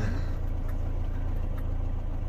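An FSO 125p 1500 car with its engine running, a steady, low, rumbling drone heard close up, holding an even level throughout with no voices.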